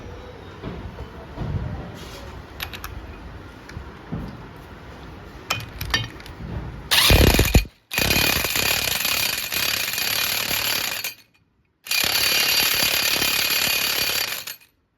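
A tool tightens a nut on the clutch of a Royal Enfield Classic 350 motorcycle: after faint clinks of metal, loud bursts of harsh rattling grinding come close up in three long runs, separated by brief silences.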